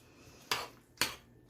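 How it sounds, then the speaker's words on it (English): Squash and eggplant ratatouille stirred in a pan, three sharp utensil scrapes and clinks against the pan, evenly spaced about half a second apart, close and fairly quiet between strokes. "I'm just going to stir this."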